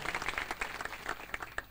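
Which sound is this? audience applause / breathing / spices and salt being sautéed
audience applause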